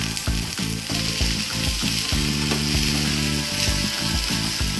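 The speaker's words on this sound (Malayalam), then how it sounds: "ഇനി ഇതിലേക്ക് അരിഞ്ഞു വെച്ചിരിക്കുന്ന ഉരുളൻകിഴങ്ങ് ഇട്ട് കൊടുക്കാം" Chopped potatoes and onion frying in hot oil for a potato fry, a loud, dense, continuous sizzle heard up close with repeated rhythmic clatter from stirring and no voices.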